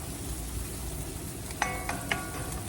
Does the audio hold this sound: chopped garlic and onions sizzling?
yes